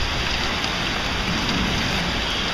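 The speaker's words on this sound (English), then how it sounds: "Rain comes out of nowhere sometimes" Rain falls during hurricane season over a roofing site, a steady, even hiss of drops drumming on surfaces, close and continuous with no voices.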